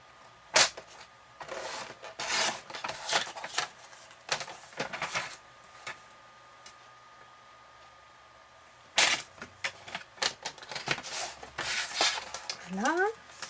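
Scissors cut a paper square into triangles for a simple pop-up card, giving a series of crisp, close snips in bursts, a quiet pause midway, then another run of cuts.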